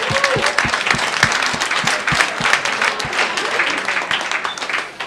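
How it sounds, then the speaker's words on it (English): A comedy club audience at The Comic Strip in New York claps in dense, sustained applause, many hands close by and loud throughout. "Give yourselves a hand for coming out tonight."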